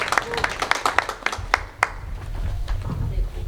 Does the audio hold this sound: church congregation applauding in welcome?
yes